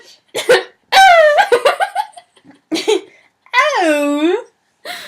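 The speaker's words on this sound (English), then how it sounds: "No, I just had a hiccup." An adult hiccups once amid bursts of giggling and lively conversation, the sharp catch standing close and loud among the voices.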